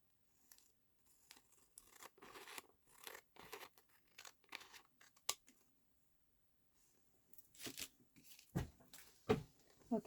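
Scissors snipping through a piece of paper for a junk journal page, a run of crisp cuts and rustles with a short pause midway and sharper snips near the end, close and fairly quiet, no speech.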